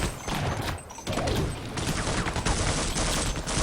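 A game weapon fires an AR grenade in Half-Life: Opposing Force, producing loud bursts of explosive gunfire amid dense, continuous combat noise with layered impacts and mechanical clatter.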